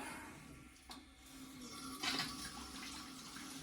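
Water drains steadily from a heating zone of a Navien heater, a faint continuous running and gurgling flow with a couple of brief splashy surges and no voices.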